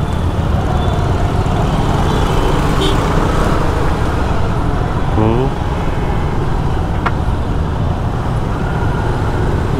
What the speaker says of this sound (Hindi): यहाँ तो भाई ट्रैफिक है, जाम रहता है, full on traffic and traffic.